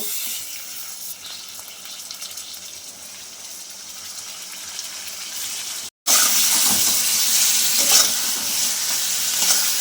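Oil in a pan hisses softly, then a sudden louder burst of sizzling erupts as pieces of catla fish hit the pan and keep frying vigorously.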